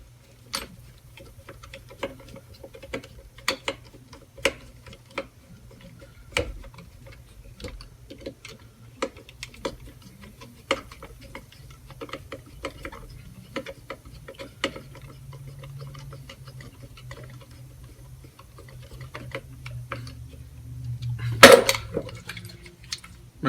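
Metal carburetor linkage being worked by hand through full throttle, secondary and choke positions produces many small, close ticks and clicks in an irregular rhythm, with a louder clatter near the end.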